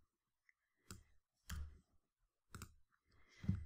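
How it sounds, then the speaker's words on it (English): Mouse clicks from right-clicking a layer in Photoshop, four distinct sharp clicks spaced about half a second to a second apart, close and clear with no talking. "I'm just right clicking on the layer itself."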